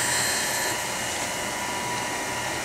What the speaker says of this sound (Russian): Пылесос включен.